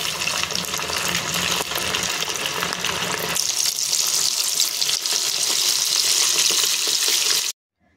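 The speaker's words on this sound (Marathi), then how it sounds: "इथे कढईमध्ये तेल गरम करत ठेवलेले आहे। त्याच्यामध्ये मी सोडून घेणार आहे।" Chicken cutlets fry in hot oil in a wok, a loud close, steady sizzle and crackle that shifts tone midway and stops abruptly at the end, with no talk.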